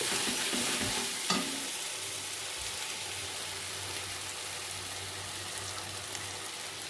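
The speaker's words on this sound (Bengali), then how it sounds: "এটাও দিয়ে ভালোভাবে কষে নেওয়ার পর মাংসটাকে দিয়ে দেবো।" Spice masala for mutton curry sizzles and fries in a pan, with a steady broadband hiss and occasional scraping stirs, close and continuous with no talking.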